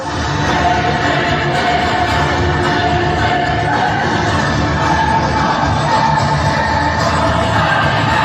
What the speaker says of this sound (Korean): 저주의 함성을 보내주시기 바랍니다